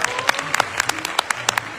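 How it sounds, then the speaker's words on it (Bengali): An audience at a live story reading at a book fair claps together, a short burst of dense, fairly close applause with a voice mixed in. "হাততালি হোক।"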